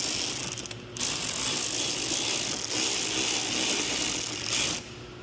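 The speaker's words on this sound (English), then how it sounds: "we're just gonna tighten that one up just a little bit" Ratchet with a 7mm socket tightening a splash guard bolt on a 2023+ Ford Raptor R, a loud, close, continuous clicking of the pawl that runs for several seconds with a short break, no talking.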